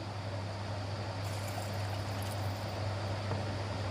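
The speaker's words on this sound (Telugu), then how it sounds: "వాటర్ వేస్తున్నానండి" Water pours steadily into a pot of tamarind rasam, a soft continuous splashing stream over a low background hum.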